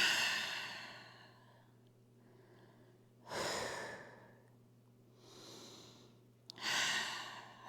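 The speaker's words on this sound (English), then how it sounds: "Big breath in and out." Slow, deep breaths in and out during a gentle yoga session for office workers, each long airy exhale rising and fading over a quiet low hum, with three breaths heard close and unaccompanied by talk.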